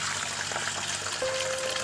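Water running over soaked potatoes in a kitchen rinse, a continuous close trickling and splashing stream.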